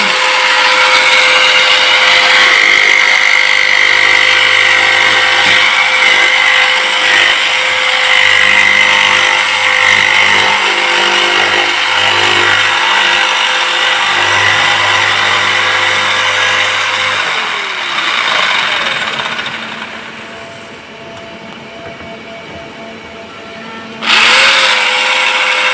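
A jigsaw machine cuts metal with a loud, steady, close buzzing whine that runs unbroken for most of the stretch, then shifts, dips quieter, and briefly stops before starting up again.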